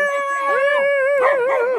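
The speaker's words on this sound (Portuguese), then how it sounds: "esse cachorrinho aqui." A small dog barks and howls in a rising, wavering whine with several yips and bends in pitch, close and fairly loud, with no talk over it.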